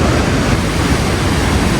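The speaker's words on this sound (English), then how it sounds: "Really loud river next to us." A loud river rushes in a steady, dense roar close by along a dark mountain trail on the way to Machu Picchu in Peru, with no voices.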